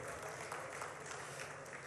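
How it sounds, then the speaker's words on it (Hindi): An audience at a Jain trust community event applauds, a dense, even wash of clapping heard from a distance, with faint voices beneath. "एक बार गौतम जी पीतलिया के लिए जोरदार ताली बजाकर अभिवादन करें।"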